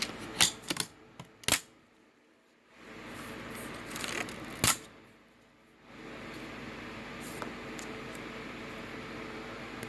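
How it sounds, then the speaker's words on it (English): An RGB keyboard's space bar keycap is pried off, giving a few sharp plastic clicks and snaps near the start and a single loud click midway, with handling rustle and a steady fan-like hiss in between. "Let's pull up the space bar."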